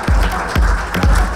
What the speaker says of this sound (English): please give a big round of applause for Mr. Raj Kumar Singh to please join me on stage